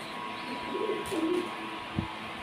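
A Gorra pigeon gives a soft, low coo, close by, against quiet background noise.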